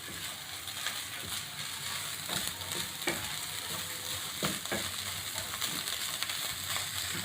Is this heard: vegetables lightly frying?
yes